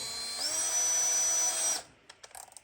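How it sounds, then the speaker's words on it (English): A handheld power drill bores a pilot hole near an S10 engine mount, a single loud whine spinning up and holding for over a second before cutting off, followed by a few faint clicks and knocks. "Now, I will pilot drill that hole."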